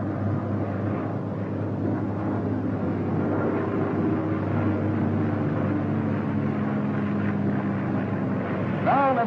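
A steady, loud piston engine drone from an F6F Hellcat fighter plane during takeoff holds for several seconds with a dense low rumble, and a faint voice rises briefly near the end.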